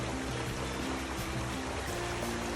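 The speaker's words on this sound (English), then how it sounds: "The water sounds absolutely beautiful and musical, and it's cold." River water flowing in Milton Freewater, Oregon, a dense, steady burbling rush heard close up, continuous and without voices.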